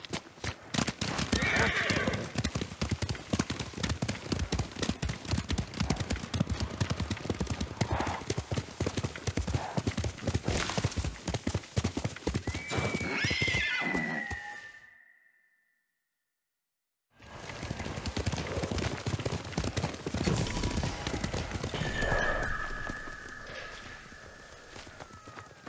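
Horses gallop in Ghost of Tsushima with a rapid, continuous clatter of hooves and a loud neigh near the middle. A brief silent gap follows, then hoofbeats resume with another drawn-out whinny.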